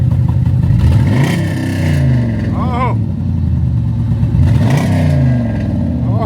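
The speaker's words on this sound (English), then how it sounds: "bro put some new exhaust on the Charger he got" A Dodge Charger V8 with a newly fitted exhaust revs hard twice, each rise climbing and falling back with a deep rumble, loud and close, while a man reacts with a brief exclamation.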